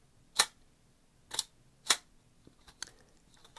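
A basic prototype shutter for a home-built large format camera snaps with three sharp, close clicks about half a second to a second apart, followed by a few fainter ticks.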